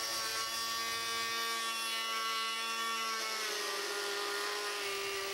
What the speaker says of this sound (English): it's time to pull out the angle grinder equipped with a 2-inch carbide cutter